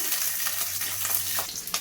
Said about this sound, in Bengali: পনির ভাজা তেলের মধ্যে আমি ক্যাপসিকামগুলো দিয়ে ভেজে নেব